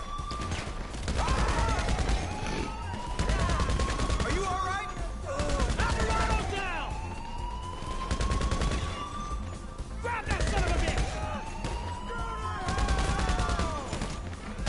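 Rapid bursts of automatic gunfire in the video game GTA come in several sustained volleys of loud, repeated shots, with tonal game sound effects sweeping through them and speech mixed in underneath.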